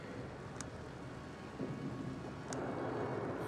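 A thunderstorm in the sci-fi video game The Invincible, with steady rain hiss and a low rumble of thunder rising midway and swelling louder toward the end.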